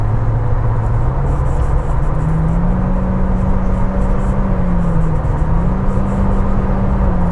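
An MG5 car accelerates while overtaking, heard from inside the cabin as a steady engine drone whose pitch climbs gradually. Road noise sits underneath, and no one speaks.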